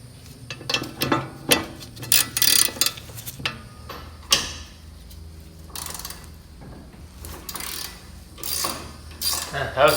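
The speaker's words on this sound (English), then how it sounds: "we're gonna have to use the standard wrench with the 17 on it" Standard 17 mm wrench working on a front suspension ball joint nut of a 1992–1995 Honda Civic EG during a camber kit install, giving close metallic clicks, creaks and clanks in irregular bursts over quiet garage background.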